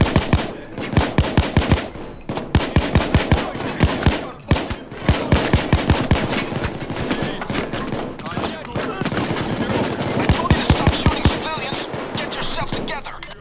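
Rapid automatic gunfire in the video game Payday 2, loud evenly spaced shots in long bursts with brief pauses, crowded by other gun noise and action sounds.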